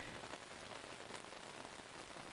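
Soft, steady rainfall forms an even, hushed hiss of drops with no distinct individual hits and no voices, quiet and distant.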